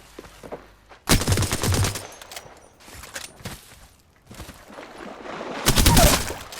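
Automatic weapon fire in the Apex Legends video game, sharp rapid bursts in two loud volleys with scattered single shots and quieter gaps between, heard without talk.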